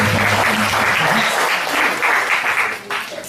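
An audience at a product training session breaks into applause, a full, sustained crowd clapping that swells and then tapers slightly near the end, with a few voices faintly audible underneath.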